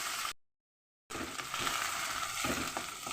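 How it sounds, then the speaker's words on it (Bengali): Ground ginger frying in hot oil, a dense close sizzle that drops out briefly near the start, then resumes steadily with a few light stirring scrapes. "সেই আদাটাও আমি তেলের উপরে দিয়ে দিলাম দিয়ে আদাটাও আমি ভেজে নিলাম"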